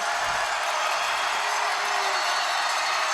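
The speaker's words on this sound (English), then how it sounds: "Here comes the crowd." A loud indoor arena crowd at a MASL indoor soccer match between the St. Louis Ambush and the Kansas City Comets roars in a steady, dense wash of noise for the whole stretch.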